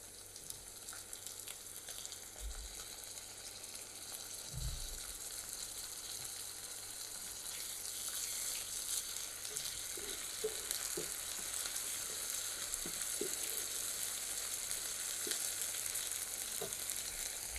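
Steady crackling sizzle of ginger garlic paste frying in a hot pan, continuous and close, with a few soft stirring knocks and scrapes.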